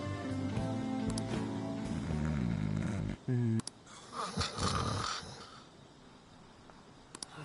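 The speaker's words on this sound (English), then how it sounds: "I was about to say my snore is almost like Yusuke's, but not like this." A game character snores in Persona 5 Strikers, a loud rhythmic snoring rumble heard alone in the first half, followed by quieter clattering and a few scattered sounds.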